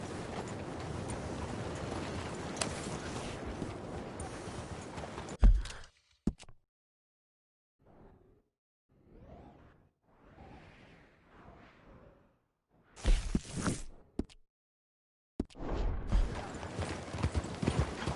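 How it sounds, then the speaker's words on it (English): Horse hooves clip-clop steadily in Red Dead Redemption 2, loud at the start and end with quieter, sparse stretches in between. "Oh, what a marvelous equine."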